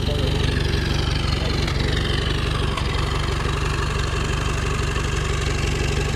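A 1942 Ford engine idling at a D-Day anniversary gathering at Killymoon Castle, a steady, close, low throbbing rumble with faint voices talking in the background.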